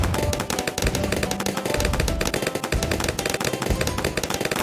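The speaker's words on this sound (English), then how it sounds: "Full auto rifle" Rapid full-auto rifle fire in Bloons TD 6 rattles on continuously and loudly for the whole stretch, a dense stream of shots layered over busy game sounds.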